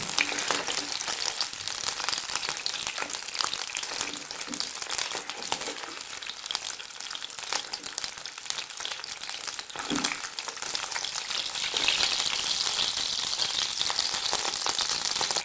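Fish frying in hot oil in a pan, a dense, continuous crackling sizzle with rapid popping spatter, loud and close throughout.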